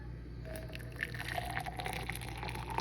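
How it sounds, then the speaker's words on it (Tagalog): Hot water for tea is poured into a cup, giving a faint, steady trickle with small bubbling drips and no talk. "Maglagay tayo ngayon ng tubig."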